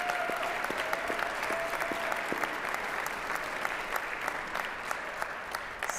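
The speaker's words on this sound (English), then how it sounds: "we're going to give him one more big round of applause" Audience applause at a trombone society concert breaks out for a performer named Stephen, a dense, steady clapping from a sizeable crowd that continues without pause to the end, with a faint tone sounding briefly near the start.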